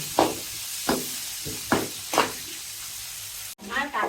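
Potato pieces frying in a pan for a cabbage and crab curry, with bursts of sizzling and stirring scrapes recurring every half second or so, close and fairly loud, ending in a brief pause and a short voice.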